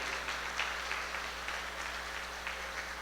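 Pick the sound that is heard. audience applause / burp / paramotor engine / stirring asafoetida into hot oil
audience applause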